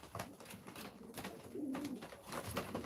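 Tumbler pigeons coo softly at a live pigeon auction, low throaty murmurs rising and falling in short phrases, faint and close, with some rustling.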